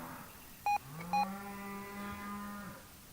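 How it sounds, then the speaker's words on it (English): Cows moo nearby on a farm with a long, low, steady call that fades out, while two short electronic beeps from a Midland GXT 1000 two-way radio sound just before it. "the cows are saying hi."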